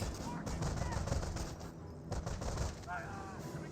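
Gunfire aimed at a Kettengrad tracked motorcycle in a Company of Heroes battle, rapid bursts of shots and distant booms in a busy mix, with a voice talking over it.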